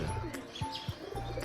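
A racing pigeon gives a few low, soft coos close by, short throaty pulses spread across a moment with faint background noise.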